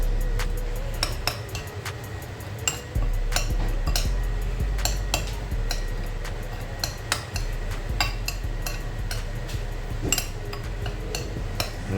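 A utensil mixes minced garlic into butter in a bowl, giving repeated clinks and scrapes against the dish in an uneven rhythm, close and fairly loud, with no talking.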